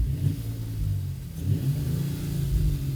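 A 2023 Mercedes-Benz GLE 450 seven-seater AMG-Line, a non-AMG model, revs up under a light press of the throttle, giving a close, steady engine note that swells and pulls.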